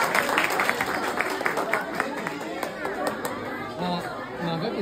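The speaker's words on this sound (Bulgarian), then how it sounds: "Много аплодисменти." Crowd at a Christmas church event clapping in a rapid patter under loud overlapping chatter and voices, the applause fading into general crowd murmur.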